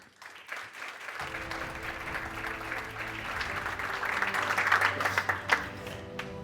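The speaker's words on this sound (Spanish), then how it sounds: "Por favor, un aplauso." Applause from a forum audience at an AI conference welcoming a Microsoft executive, clapping building steadily over a sustained musical tone and growing louder toward the end.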